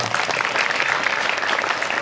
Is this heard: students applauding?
yes